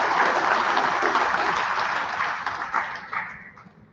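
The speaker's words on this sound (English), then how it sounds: "Let's give them a big round of applause." An audience at an athletic awards program breaks into steady, dense applause. The clapping holds strong for a few seconds, then gradually thins and fades out.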